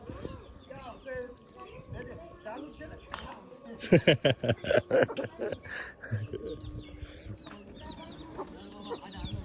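Chickens and a rooster cluck busily with pigeons around them as grain is scattered in a village yard; the clucking grows loud in a burst midway, with voices in the background.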